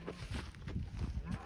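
Cattle mooing on a farm, a few low, moderately loud lowing calls rising over a steady background rumble across a short stretch.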